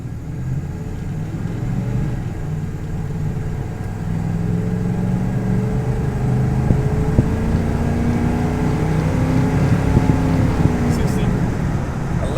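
Chevy C10 pickup truck accelerating hard through its gears on a timed speed run, a steady loud engine drone rising in pitch from inside the cab, with a shift partway through and continuous rumble throughout.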